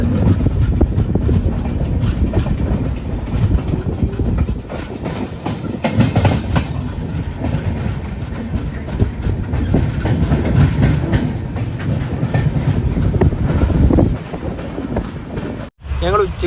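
Samata Express sleeper-class train running between stations in Odisha, a loud steady rumble with rhythmic clickety-clack of wheels over rail joints, continuous and close from inside the coach.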